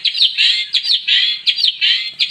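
A black drongo near a bird trap calls loudly and close by, pouring out a rapid run of bright, scratchy chirps in repeated bursts with tiny gaps between them.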